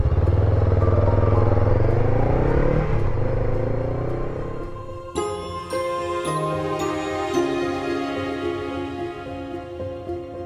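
A Honda NX500 motorcycle rides along on a road trip through Galloway Forest Park, its engine rumbling steadily and loud for the whole stretch, with gear-change pitch shifts and clattery mechanical layers joining midway; no one speaks.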